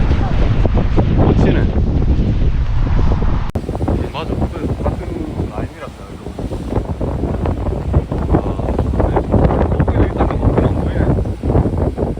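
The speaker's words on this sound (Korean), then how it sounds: "파도가 세네" Strong ocean waves and gusting wind on a Hawaii beach, a loud continuous roar of surf with heavy wind buffeting on the microphone, and a person speaking briefly over it.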